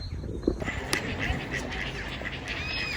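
Ducks quacking at a public lake, short calls scattered over a steady outdoor hubbub with faint background voices.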